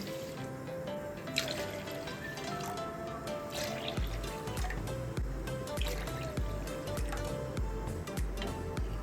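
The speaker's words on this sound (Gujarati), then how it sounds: "આપણે એક કપ ખાંડ એડ કરશું અને એની જોડે ચાર કપ પાણી એડ કરશું" Water poured from a vessel into a large dry pot holding a cup of sugar, four cups in all, for rasgulla syrup; a steady liquid pour and trickle runs throughout, with soft thumps and clatter in the second half.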